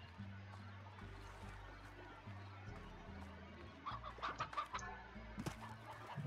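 A chicken in the Slime Rancher video game clucks in a quick burst of short, bright notes near the end, over a low droning game soundtrack.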